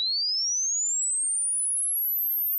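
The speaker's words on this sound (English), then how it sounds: "I made the sweep go from 50 hertz up to 20 kilohertz" A clean, steady pure sine tone glides smoothly upward in pitch from 50 Hz to 20 kHz over a few seconds, with nothing else in the background.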